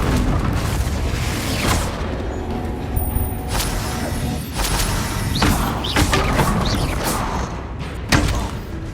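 The Bombarda and Confringo explosion spells in Hogwarts Legacy go off as a series of booming blasts and sharp bursts layered over constant combat noise and rumble.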